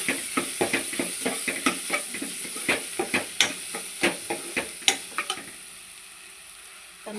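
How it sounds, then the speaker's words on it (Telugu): Turmeric and chili powder being stirred into a sizzling mushroom and capsicum curry in a pan, a steady run of scraping spoon strokes over continuous frying hiss, close and fairly loud, fading near the end. "ఒక స్పూన్ కారం వేసి బాగా కలుపుకొని"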